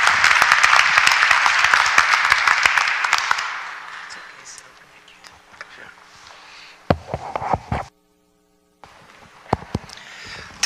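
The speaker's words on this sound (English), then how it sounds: "I'd like to ask for a round of applause for these speakers and the exciting technologies they presented." Conference audience applauds the speakers with a burst of clapping that fades after a few seconds into quiet, followed by a few isolated knocks and handling sounds.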